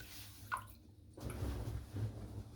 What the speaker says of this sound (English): Now I'm just going to wet my head.